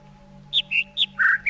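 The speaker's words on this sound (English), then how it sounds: "are we done with hearing these birds?" Birds in the video game The Witness give a quick run of five short, bright chirps and whistles, close and clear over a faint steady hum.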